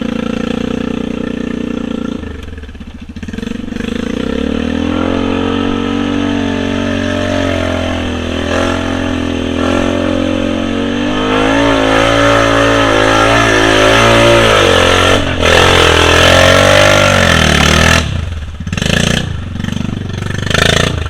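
A Honda off-road vehicle's engine churning through deep muddy holes, revving hard and steadily for a long stretch, rising and surging in pitch, loud and close, with brief dips and bursts near the end.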